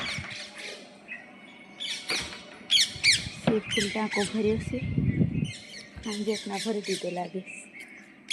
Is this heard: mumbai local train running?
no